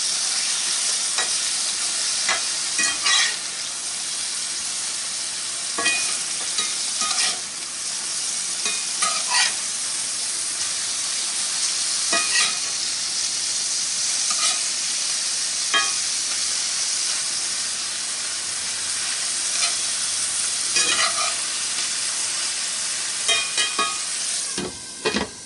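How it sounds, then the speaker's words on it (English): Hamburger meat sizzles steadily in a frying pan, a dense, close hiss with scattered crackles and pops running unbroken throughout, with no voices. "The hamburger's starting to sizzle."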